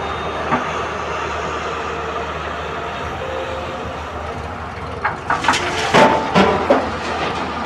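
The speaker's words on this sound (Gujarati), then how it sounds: "આ બાજુ ભરાઈને ટ્રેક્ટર જાય" A loaded tractor rumbles past on a farm run, giving a steady broad drone that breaks into louder clattering bursts near the end, with no one talking.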